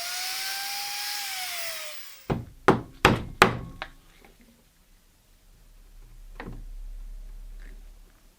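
A chisel cleans up a hinge mortise in wood for a console desk: after a fading machine whine, four sharp close knocks land in quick succession, then a lone softer tap follows after a quiet pause.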